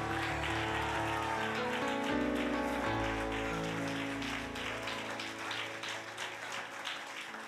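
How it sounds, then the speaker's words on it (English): A church congregation clapping hands in praise, a steady mass of applause under sustained organ or keyboard chords, loud and continuous throughout. "Clap your hand and give God a praise"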